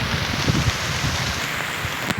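Heavy rain and gusting wind during a storm, a dense continuous hiss of rainfall with buffeting wind noise on the microphone, close and loud throughout.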